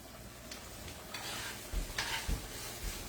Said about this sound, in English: I'm going to just saute these up a little bit and then I'm dumping them in there